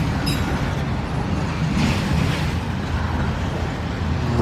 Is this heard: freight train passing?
yes